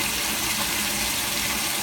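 Water flowing out steadily through a previously stopped-up drain in an indoor sink, a continuous broadband rush that stays close, even and uninterrupted throughout with no voices.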